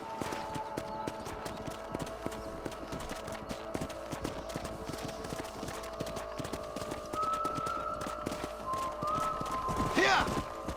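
Horses in Red Dead Redemption clip-clop in a steady, close rhythm with a whinny near the end, amid other game sounds and a voice talking.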